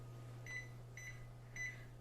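Three short electronic beeps at an even pace from an oven timer being set on a dirty kitchen oven, over a steady low appliance hum.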